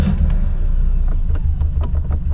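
Engine of a 1957 Porsche 356 Speedster replica runs with a loud, close, low rumbling throb and a few sharp intake pulses, steady throughout with no voices.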